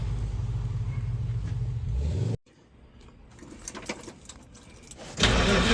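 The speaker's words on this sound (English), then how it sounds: "It's time to start it and see." A 1970 Dodge D100 pickup engine, freshly fitted with a new cam and DLC lifters, is cranked with a loud steady churn that cuts out abruptly, then fires into a rough, uneven run that swells loudly at the end, with keys jangling.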